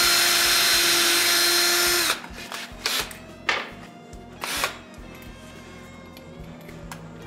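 A power tool cuts the ends of a wooden board held on a jig: one loud sustained whine for about two seconds, then several short bursts as the blade spins down and restarts.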